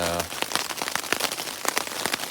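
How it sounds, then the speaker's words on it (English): Heavy rain mixed with big hailstones drums on a tent along a trail in New York, a dense, close patter of sharp irregular impacts that continues throughout with no talking. "it's pouring right now"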